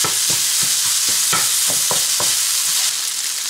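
Chicken filling for puff pastry stirred in a hot pan, with repeated scraping spoon strokes over a steady close sizzle of frying. No voices.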